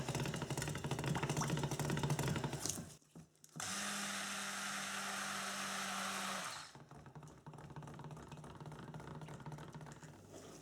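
A stick blender whirs steadily for about three seconds as it mixes cold process soap batter, a loud, even motor buzz that starts and stops abruptly between stretches of quieter background noise.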